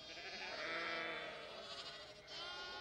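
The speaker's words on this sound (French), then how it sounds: "À la ferme, il y a des moutons et des agneaux." Lambs bleat on a farm, with quiet, wavering calls that run almost continuously and dip briefly near the end, heard faintly with no talking.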